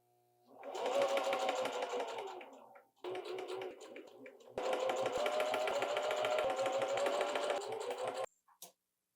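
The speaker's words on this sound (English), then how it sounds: "Okay, stitch this up." A home sewing machine stitches a fabric seam in two runs separated by a brief stop, each a rapid, even mechanical buzz at close range, ending with a couple of short clicks.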